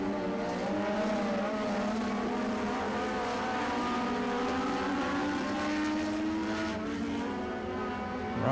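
INEX Legends race cars on the final lap come off turn 4, a steady loud engine drone with overlapping pitches rising and falling as several cars pass close by.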